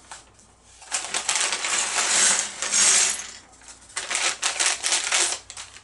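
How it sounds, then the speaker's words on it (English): A paper parts bag from the LEGO Star Wars Darth Vader Bust set 75439 is torn open and handled. Bursts of crisp crinkling and rustling come close and fairly loud, with a short pause between them. "I'll open up bag number 1 of these paper bags."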